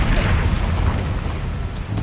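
Booming blast from the Confringo spell in Hogwarts Legacy, a loud, sustained low rumbling explosion lasting a couple of seconds with crackling debris over it.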